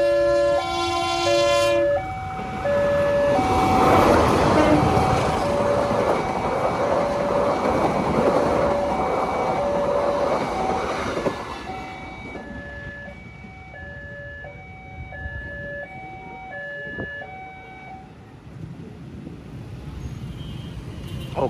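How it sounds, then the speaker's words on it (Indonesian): The Probowangi passenger train, hauled by two locomotives, rumbles past loudly through Mangli station while a two-tone horn sounds repeatedly, then the roar fades into a quieter rolling clatter as the cars continue by. "Kereta api Probowangi melintas di stasiun Mangli menggunakan double lokomotif"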